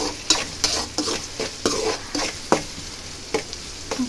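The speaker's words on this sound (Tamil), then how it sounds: "ஆனியன் கொஞ்சம் ஃப்ரை ஆகட்டும்." Onions fry in a pan for chicken rice as a spatula stirs in quick rhythmic scrapes over a steady sizzle, close and clear.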